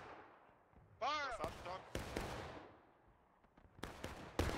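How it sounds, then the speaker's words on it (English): Musket shots crack out in a War of Rights battle on the Hagerstown Turnpike map, several sharp reports spaced irregularly against a quiet background, with a brief voice heard early on. "I do hear Eddie doing some fire into the flank over there"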